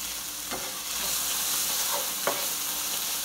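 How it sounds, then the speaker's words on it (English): Ground beef sizzles steadily in a hot pan, with a few scraping stirs of a spoon cutting through the constant crackle. "you guys can hear that awesome sizzle coming from that ground beef"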